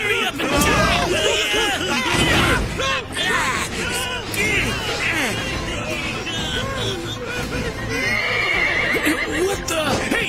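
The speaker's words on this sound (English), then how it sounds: "get them horses calmed down!" Several horses in a video game whinny and neigh repeatedly amid hoofbeats and agitated voices, a busy, continuous clamor.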